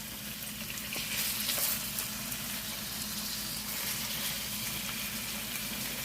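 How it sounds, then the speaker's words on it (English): Ground beef sizzles and fries steadily in a pot for lasagna, a continuous crackling hiss with faint stirring scrapes, close and moderately loud with no talking. "Now I'm gonna add my ground beef to my pot."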